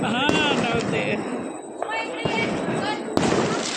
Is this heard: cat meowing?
no